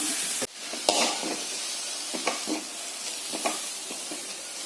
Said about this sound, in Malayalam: തേങ്ങ ഇട്ട് ഇളക്കി രണ്ട് മിനിറ്റ് മൂടി വെച്ച് വേവിക്കുന്നു